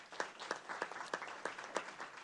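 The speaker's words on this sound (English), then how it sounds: "Round of applause." Scattered applause at a school board of education meeting welcomes a newly introduced high school assistant principal, a small audience producing distinct, fairly quiet claps at an uneven rhythm rather than a dense roar.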